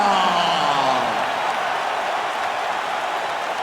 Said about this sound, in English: You hear the crowd popping.